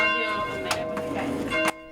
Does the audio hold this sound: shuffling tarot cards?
no